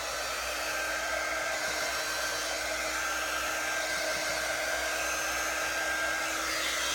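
A hair dryer blows steadily on a painted wheelbarrow craft, a continuous close whooshing hum with no pauses.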